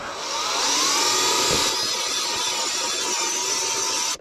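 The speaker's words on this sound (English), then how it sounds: "And now he's going to drill those up." A continuous high-pitched whine of a step drill bit drilling holes during a luggage rack install on a 2016-2017 Honda CRF1000L Africa Twin motorcycle runs throughout, loud and close, cutting off abruptly at the end.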